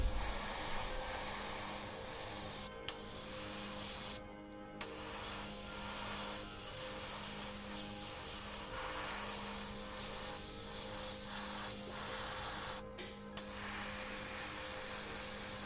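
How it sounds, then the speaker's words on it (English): A close airbrush hisses out paint onto a tabletop miniature being painted with fire effects. The steady airy spray runs almost continuously, broken by a few brief pauses, with no voices. "Small, tiny sprays, controlling how much paint's going on there."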